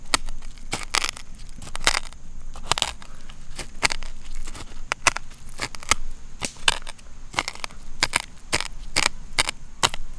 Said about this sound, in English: I'm going to try to mortise and pestle some coffee beans.